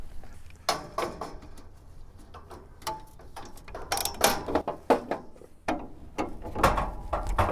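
A hand ratchet works on the balancer nut of an old barn-find car engine, giving irregular bursts of quick metallic clicks and clacks, close and fairly loud, with pauses and some shuffling between turns.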